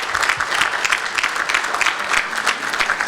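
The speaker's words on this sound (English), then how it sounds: "A big round of applause for the new board." Lively audience applause at an annual business gala, loud, close and continuous, with rhythmic pulses of clapping running through the whole stretch.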